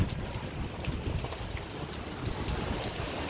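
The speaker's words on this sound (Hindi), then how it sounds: "अरे भाई क्या बारिश हो रही है यार।" Steady rain falls outdoors in the UAE, a constant soft hiss with light patter and low rumble throughout, moderately quiet and uninterrupted by talk.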